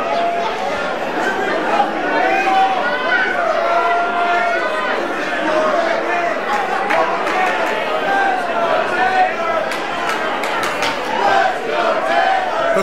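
A sold-out wrestling crowd at a live independent show, loud and constant with chanting and shouting voices, near and filling the room, while a commentator talks over it.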